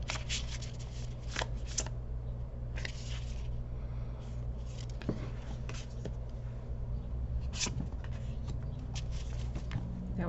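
A deck of oracle cards is shuffled close up in repeated soft, crisp riffles and slides over a low steady hum, with no talking.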